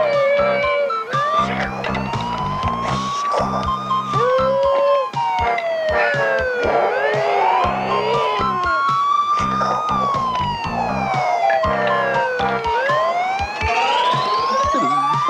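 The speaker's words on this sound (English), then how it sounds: "That's the toy ambulance. You know, the kind that takes sick people to the hospital." A toy ambulance siren plays its loud, continuous electronic wail without a break, sweeping up and down in pitch and layered with other tones, with no talking over it.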